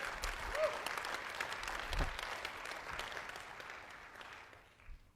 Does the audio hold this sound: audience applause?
yes